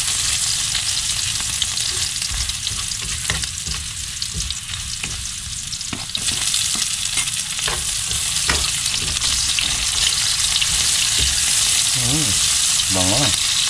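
Garlic, onion and pepper sautéing in a pan give a continuous loud hiss and crackle, with scattered clicks of a utensil stirring against the metal and a brief squeaky scrape near the end; no talk.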